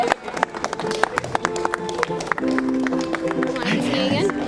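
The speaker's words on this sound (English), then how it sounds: "You guys can keep clapping, it's okay." Wedding guests applaud at a ceremony, a dense run of sharp claps spread across the clip with a steady crowd murmur and overlapping voices throughout.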